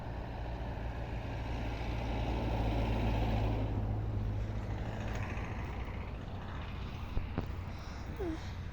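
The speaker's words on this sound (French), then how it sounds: "il y a une voiture qui arrive. Elle roule pas vite la voiture." A slow vehicle rumbles closer with a low engine drone that swells and fades gently, heard outdoors at moderate distance without talking.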